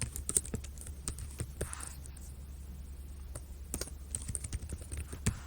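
Keys clatter in quick irregular bursts as an email address is typed on a computer keyboard, close and fairly quiet, with brief pauses between runs of clicks and a faint low background hum.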